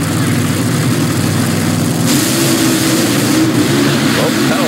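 A funny car's drag racing engine keeps running loud and steady after a crash, a continuous droning roar up close with a brief surge partway through.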